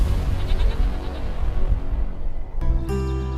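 Goat bleating in a Hindi short film, loud wavering cries over dense low background noise, then a sudden cut to a different steady tone near the end.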